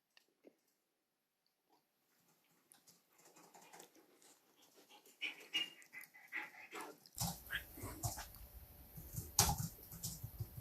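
An Akita dog pants in rapid uneven bursts, starting faint after near silence and growing louder and closer, with snuffling and rustling as it moves about.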